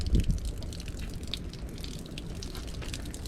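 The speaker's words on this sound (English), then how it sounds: "So we got some pretty milky water" Milky water drains from an RV water heater tank, a steady close gushing flow of liquid with low rumble throughout and no talking.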